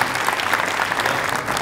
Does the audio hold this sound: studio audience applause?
yes